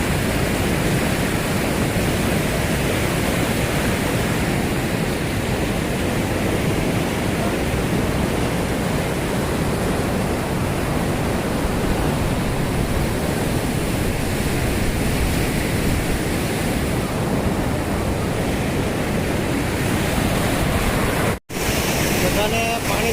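Steady, loud roar of rushing floodwater from the swollen Saga Vadi river after rain, a constant broadband torrent with one brief dropout near the end.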